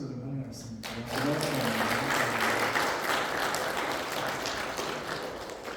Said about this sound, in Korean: 박수로 좀 환영하겠습니다.